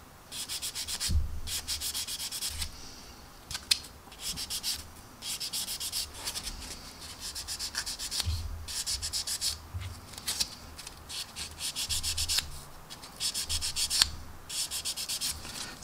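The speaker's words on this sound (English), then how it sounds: "You just sand it off like this, and then come back and polish it off." Fine abrasive rubs back and forth over the clear plastic canopy of a 1/32 Tamiya F-16CJ model kit to remove a seam, a close, steady scratchy rasp in repeated short strokes with brief pauses.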